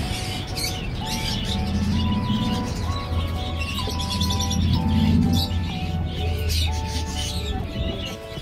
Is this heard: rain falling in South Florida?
no